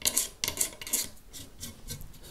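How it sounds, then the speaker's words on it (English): A blade scrapes along the curved fretboard of a Blackguard Esquire guitar under restoration, giving a run of short, close raspy strokes with a steady rhythm and no voices. "The good thing about using a blade to scrape it is that you can really easily"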